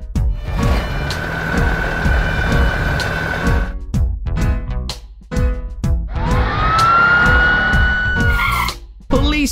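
Police car siren sounding in short bursts between other noises, then a rising wail near the end, set among a children's vehicle song with music and voices.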